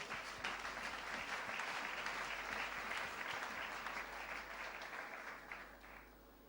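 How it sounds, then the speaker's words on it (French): A church congregation applauding the word of the Lord, sustained dense clapping from many hands, fairly distant and soft, tapering off toward the end. "Est-ce qu'on peut acclamer la parole du Seigneur?"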